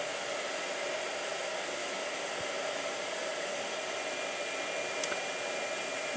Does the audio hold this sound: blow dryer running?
yes